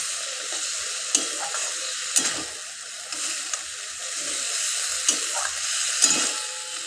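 Tomato paste sizzles steadily in a hot pan for a fish curry with drumsticks and potato, with scattered clicks and taps of a spatula stirring through the close, continuous frying hiss.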